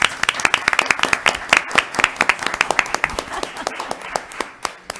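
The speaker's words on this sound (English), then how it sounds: "let's give them a round of applause" Sustained clapping from an audience at a candidate forum, steady and fairly close, with individual sharp claps standing out and a faint voice underneath.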